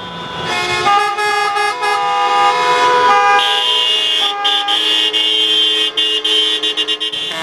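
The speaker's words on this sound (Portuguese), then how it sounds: "Já passava das 9h30 da manhã quando os caminhões chegaram à Praça Mauá fazendo muito barulho" Protesting trucks honking their horns in city-centre traffic, several loud sustained horn blasts overlapping and shifting in pitch, continuous and close with no talk.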